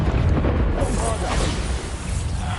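Bombarda explosion spell cast in the game Hogwarts Legacy, a loud rumbling blast with a sustained booming low end that fills the whole stretch, with a voice briefly mixed in.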